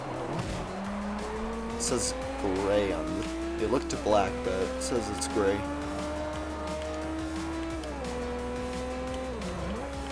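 An Audi S4 racing in the video game Forza Motorsport 4: a sustained engine drone rises and shifts pitch while tires squeal in short bursts, with people talking over the game sound throughout.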